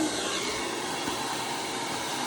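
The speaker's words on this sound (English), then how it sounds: "I will turn my blow dryer on" A hair blow dryer running steadily at close range while hair is blow-dried, a constant, loud, broadband whooshing roar with an even level and no talking.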